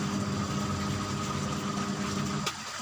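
LG digital washing machine motor running during conversion to manual, a steady loud mechanical hum with a faint rattle that cuts off near the end.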